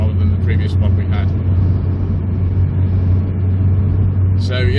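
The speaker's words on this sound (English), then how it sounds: "I shouldn't really be driving around the roads in a open-top sports car like this" An open-top sports car driving on a road in early February, a steady low engine hum with road and wind rumble throughout, and a few faint chirps and clicks over it.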